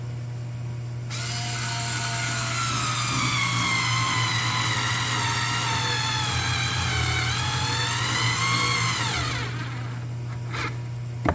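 A powered screwdriver drives a screw into hardwood, its motor whining steadily and close, the pitch sagging as it strains before it stops abruptly, followed by a couple of faint clicks.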